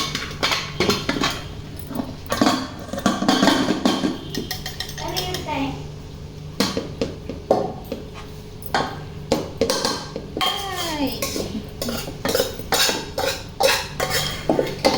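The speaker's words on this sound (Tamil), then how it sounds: "பிரியாணியை நம்ம இப்போ இன்னொரு பாத்திரத்தில் மாற்றிடுவோம்" Mutton biryani is scooped from a pressure cooker into another vessel, with repeated sharp clinks and scrapes of a metal spoon against pots, while voices murmur faintly in the background.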